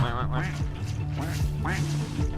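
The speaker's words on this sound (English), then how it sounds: "Duck noises." Quacking from a duck in a video game, a few short nasal calls in a busy game soundtrack with music and effects, while a voice talks over them.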